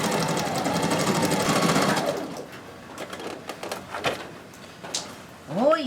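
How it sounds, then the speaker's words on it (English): Sewing machine stitching upholstery fabric runs in a fast, close buzzing burst for about two seconds, then stops, leaving small clicks and handling noises. "I am gonna put in a second stitch right next to it and then zigzag."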